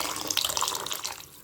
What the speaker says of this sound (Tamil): நான் அரிசி காஞ்ச தண்ணி தான் சேர்த்துக்கிறேன்.